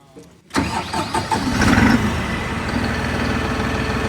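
A New Holland 5620 CRDI tractor engine starts with a sudden roar, then settles into a loud, steady rumbling idle close by.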